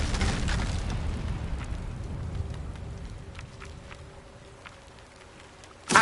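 The Incendio fire spell from Hogwarts Legacy bursts out as a loud broadband whoosh and crackle that slowly fades over several seconds, ending with a sudden short thump.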